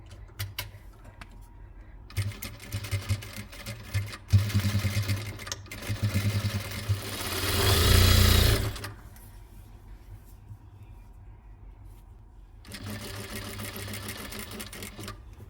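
A sewing machine stitches the side seam of an umbrella cover in several short bursts of whirring. One longer run swells louder in the middle, and quiet pauses fall between the runs.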